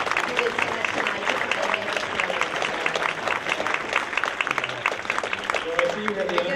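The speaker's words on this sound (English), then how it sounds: "I would like to have you give another round of applause to our 7 hardworking judges" Audience at a cherry blossom queen pageant applauding the seven judges, a steady dense clatter of clapping hands sustained throughout, with some voices mixed into the crowd noise.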